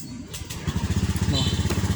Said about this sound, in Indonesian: suara starternya yang sudah menggunakan teknologi ACG starter